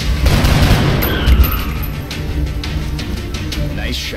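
Gunfire and booming shots from squad combat in the XCOM alien-invasion strategy game, a dense steady barrage of bursts and impacts running throughout, loud and close, with no talk over it.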